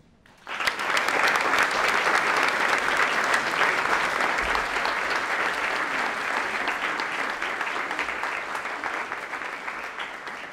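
Audience at a basic school graduation ceremony in 2019 bursting into applause for teachers, a sudden onset of dense, sustained clapping from many hands that holds loud for about ten seconds and tapers slightly.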